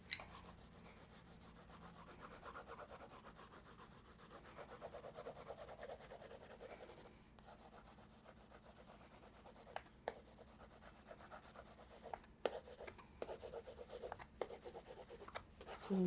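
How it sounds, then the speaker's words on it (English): A 2B pencil shades on paper in quiet, soft scratchy strokes that repeat with short pauses, close by and faint. "So I'm just using a 2B pencil, going right up to my form"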